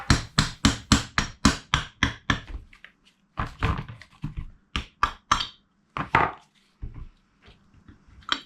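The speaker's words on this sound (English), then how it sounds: "I'm just using my dead blow hammer to break the bond of the silicone on this cover." Dead blow hammer striking a 2003 KTM 250SX engine cover to break a silicone seal: a quick run of evenly spaced dull thuds, then irregular clusters of heavy knocks with short pauses between, close and solid.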